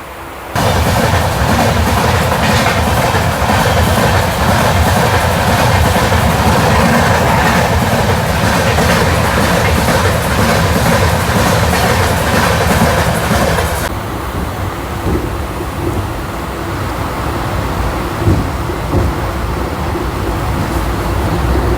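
Netravati Express running between Mangalore and Vasco da Gama, a loud continuous rumble with rhythmic clickety-clack of wheels on rail joints, the roar easing slightly partway through but carrying on steadily.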